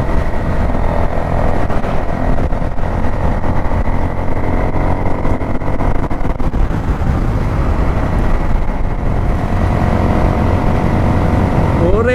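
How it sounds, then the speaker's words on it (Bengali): A motorcycle runs at full throttle on an open road, its engine holding a loud, constant drone with rushing wind noise throughout. "আর বাইক চলতেছে পুরো টানের উপর"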